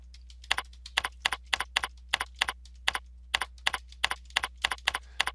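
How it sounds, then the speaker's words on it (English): Computer keys are typed in a quick, close series of sharp clicks, arriving in short bursts with brief pauses, alone over a faint steady hum. "I'm going to type Health and Wellness Presenter"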